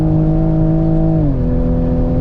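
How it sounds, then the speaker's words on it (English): Toyota Supra race car on the Dijon circuit at full throttle down the main straight, a loud, steady in-car engine drone that dips in pitch as it shifts up, then keeps pulling. "flat on the gas for the main straight"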